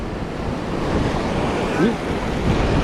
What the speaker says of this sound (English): The wind's kicking up again